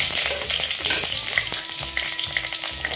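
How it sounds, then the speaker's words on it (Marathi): Loud, crackling sizzle of chillies frying in hot oil, continuous and close, with scattered pops and spatters throughout. "तेल गरम झाल्यावर मिरची घाला"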